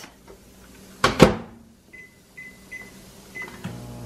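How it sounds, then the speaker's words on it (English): A microwave oven is loaded and started for a turkey burger: a sharp door clunk, then a few quick high keypad beeps and a faint hum, all close and alone. "Just gonna pop this in the microwave for 4 minutes."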